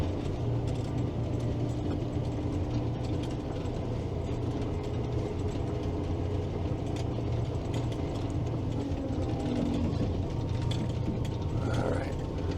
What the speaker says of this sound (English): that blower is a little bit noisy